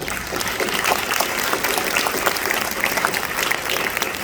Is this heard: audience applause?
yes